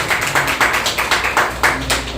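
Audience clapping at a farm product demonstration for Agri 82: bursts of applause in a steady patter, a few loose waves rising and falling, moderately close, with no talk over them.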